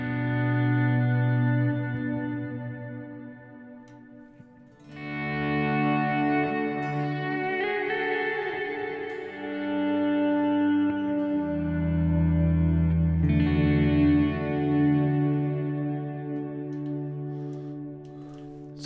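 Guitar chords ringing through auto-volume swells, echo, delay and a shimmering reverb, notes blooming in softly and trailing into long washes, with three or four distinct chord changes played alone and no talking.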